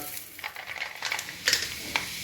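Fenugreek seeds and a bay leaf sizzle in hot oil left from frying fish, a steady crackling hiss broken by brief pops and a couple of sharp spatters, close by, with no voices.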